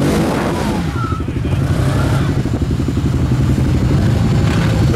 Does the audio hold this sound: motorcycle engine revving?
yes